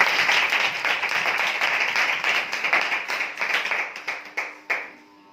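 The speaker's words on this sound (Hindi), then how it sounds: "हम जोरदार तालियों से उनका स्वागत करें" Members of a church congregation at a prayer sermon applaud to welcome people joining a spiritual assembly online. Brisk, thick clapping gradually thins into a few scattered, separate claps before fading out.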